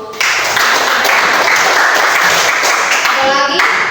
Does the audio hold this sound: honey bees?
no